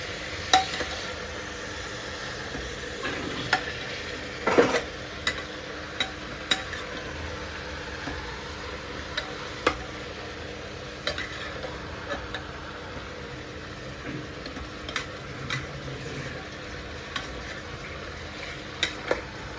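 Food fries in a pan in a home kitchen with a soft, steady sizzle, while a spoon stirs and mixes it, scraping and clinking now and then against the pan at close range.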